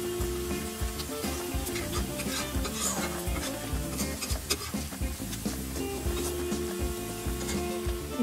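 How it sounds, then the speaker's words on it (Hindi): Ground green peas stir-fried in a pan for U.P.-style matar nimona, a steady close sizzle with continuous scraping and stirring strokes throughout, no voices. "इस तरह से थोड़े थोड़े डालेंगे और चलाते हुए भून लेंगे।"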